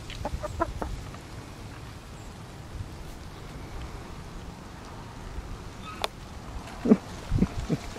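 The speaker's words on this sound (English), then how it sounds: "Surrounded by chickens." Chickens cluck in short, scattered bursts near the end, following a stretch of quiet outdoor background with a few faint clicks.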